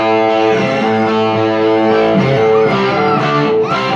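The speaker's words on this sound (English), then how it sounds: "That's just that's on number 7 on the distortion." Loud, continuous electric guitar pushed through a distortion effect set at 7, with sustained harmonic-rich chords shifting every second or so and no pauses.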